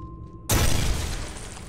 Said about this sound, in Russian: Ого, взрывы ближе. Взрывы ближе. Еще ближе.